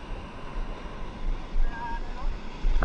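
Ocean waves wash onto a beach where people are shorecasting, a steady surf hiss with wind noise and a couple of louder swells, plus faint voices in the background.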